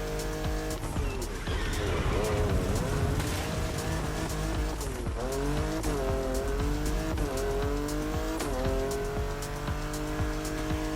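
Race cars roar continuously in the Motorfest driving game, engines revving and shifting close by while tires squeal and skid through corners, with collisions and near misses on track.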